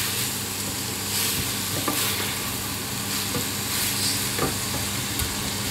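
Cauliflower, broccoli and peppers sizzle in a hot pan while being stirred, a steady frying hiss punctuated by scraping clacks of the spoon every second or so, close and clear with no talking.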